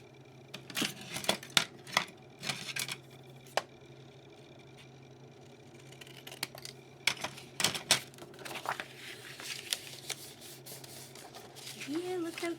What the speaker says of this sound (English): And we're going to cut those corners.